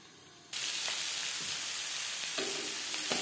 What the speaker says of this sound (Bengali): গ্যাসের ফ্লেমটাকে লোতে করে দিয়ে ভাজবো।